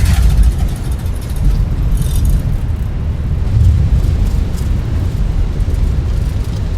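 A Qatar Airways airliner rolling out after landing on a flight from Doha to Male, with spoilers deployed and no reverse thrust, heard as a loud, continuous low roar and rumble of engines and airframe from inside the cabin.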